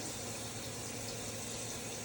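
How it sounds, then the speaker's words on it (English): Water pours steadily into a large pot for chicken and sausage gumbo, a continuous close hiss and splash, with no voices. "Now we're just going to add water to it."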